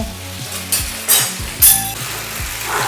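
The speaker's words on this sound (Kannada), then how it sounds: "ಚೆನ್ನಾಗಿ ಫ್ರೈ ಆಗ್ತಾ ಉಂಟು" Disco fish sizzles steadily as it fries in a hot pan, a loud continuous crackle with occasional sharper spitting bursts and faint clinks, no voices.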